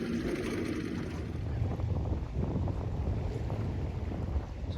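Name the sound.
strong wind on Moosehead Lake while boating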